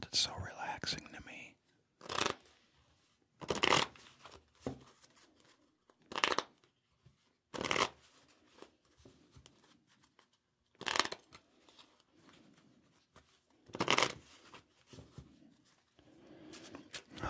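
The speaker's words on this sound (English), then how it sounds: "I just love card sound." Playing cards are shuffled in short, crisp riffling bursts every couple of seconds, close up, with soft whispering between them.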